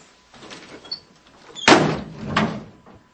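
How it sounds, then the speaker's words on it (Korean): A door slams shut as an audiobook sound effect: one loud, sharp bang near the middle with a short ringing decay, after quieter rustling and creaking. It stands alone with no talking. "문이 쾅 닫혔다."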